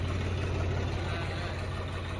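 A tractor engine runs steadily at idle close by, a continuous low, throbbing drone with a constant rhythmic pulse.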